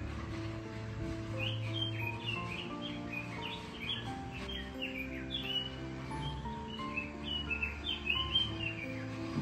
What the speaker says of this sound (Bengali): পাখির শব্দটা শোনো